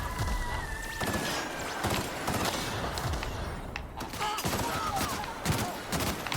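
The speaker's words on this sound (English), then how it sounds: "Wow, this gun eats through machines." Gunfire in the video game The Outer Worlds, rapid bursts of shots tearing through machines against busy background game noise, fairly quiet overall with a voice occasionally talking over it.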